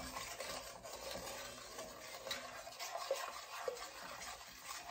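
A pecan candy mixture is stirred in a pot over medium-high heat, giving a steady close scraping and rubbing texture with faint sizzle, continuous and alone without talk.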